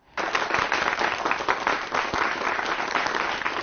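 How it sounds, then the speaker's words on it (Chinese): Audience at a Tsinghua University 'Future Brain' lecture series applauds the speaker's talk: a dense, steady round of clapping that starts abruptly and holds at full strength throughout, with no voices over it. "好，那让我们再一次以热烈的掌声感谢钟毅老师为我们带来的精彩演讲"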